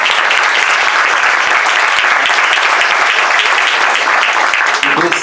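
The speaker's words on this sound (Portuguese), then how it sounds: "vou pedir uma salva de palmas" Concert audience in Casa Branca, Brumadinho, giving sustained, dense applause from many hands that stays loud and even throughout, fading slightly only at the very end.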